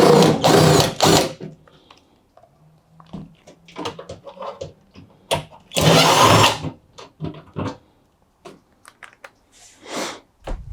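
Cordless power drill undoing the screws on a Fisher Paykel washing machine panel, with loud close whirring bursts separated by pauses and small clicks and scrapes in between.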